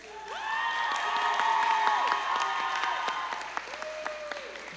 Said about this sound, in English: Please applaud your instructors.